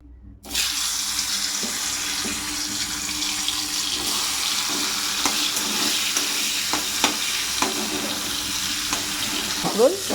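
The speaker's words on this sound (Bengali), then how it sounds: "আর এখানে পটল ভাজতে দিয়েছি দুপুরের তরকারির জন্য।" Pointed gourd (potol) frying in oil in a home kitchen, a steady bright sizzle that starts abruptly and carries on loud and even, with scattered light clinks and scraping of a utensil.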